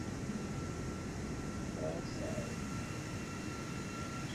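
Airliner taking off from Dubai International Airport in Microsoft Flight Simulator 2024, a steady broad engine roar and rushing hum filling the whole stretch, with a brief voice at the start.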